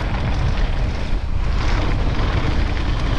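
Loud, continuous wind rushes and buffets the microphone while mountain biking at Whistler Bike Park, a steady roaring blast with no pauses.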